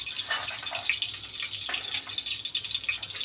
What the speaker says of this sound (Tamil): கொஞ்சம் தண்ணி ஆட் ஆகிருக்குன்னு நினைக்கிறேன், சவுண்டு கேட்டுகிட்டே இருக்கு இல்லையா, தண்ணி போய்க்கிறதும்